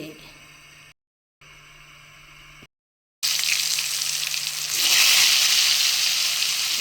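Stuffed brinjal fries in hot coconut oil for a vazhuthananga roast: after a quiet opening with brief dropouts, a loud, close, hissing sizzle bursts in and keeps crackling steadily, swelling slightly toward the end.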